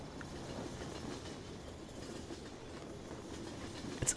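A long freight train hauled by three locomotives rolls past in the Farming Simulator 17 video game, a steady, fairly loud rumble with rail clatter that holds throughout and ends on a brief sharper knock.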